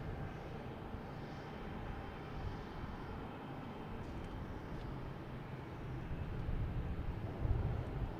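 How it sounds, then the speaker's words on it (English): Delta E-175 jet airliner at Boston Logan Airport, a steady broadband engine rumble at night that holds constant throughout and swells slightly louder toward the end, with no talk over it. "next lined up is a Delta E-175 heading to LaGuardia"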